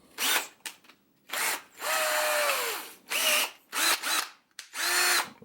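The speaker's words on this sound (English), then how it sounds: "So starting with the drill," A power drill whines in short repeated bursts with pauses between, its pitch sweeping as it spins up and slows, close and fairly loud, during repair work on a Pfaff 230 sewing machine.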